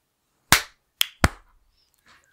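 Three sharp claps ring out in a quiet room, the first loudest, followed by a faint rustle afterward.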